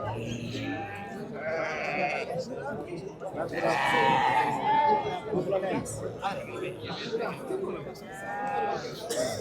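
Sheep bleat repeatedly, some near and some farther off, at a busy livestock market in Nishon, Kashkadarya, with a constant murmur of people talking in the background.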